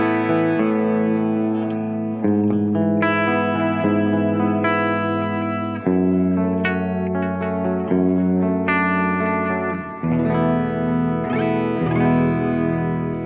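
Clean electric guitar through a Mesa Boogie JP-2C amp on channel 1, with delay adding repeats behind sustained chords and arpeggiated notes, played alone at a steady level.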